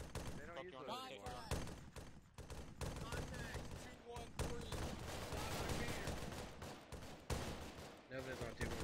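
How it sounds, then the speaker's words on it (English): Heavy, dense gunfire in the military shooter Arma 3, with bursts of rapid automatic shots and loud cracks stacking up continuously, some close and some distant, with a voice speaking over part of it. "That's a lot of fucking fire."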